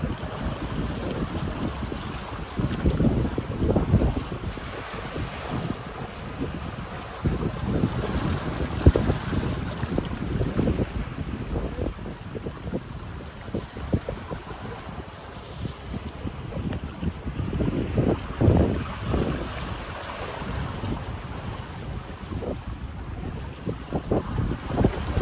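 A sailboat under way in Turkish coastal waters in force 6-7 wind, pitching through waves, with steady wind rumble on the microphone and repeated surging water thumps and splashes, close and loud, with no talk.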